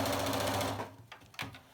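A sewing machine stitches fabric in a steady, fast whir of needle strokes for most of a second, then stops, followed by a few soft handling clicks and taps close by.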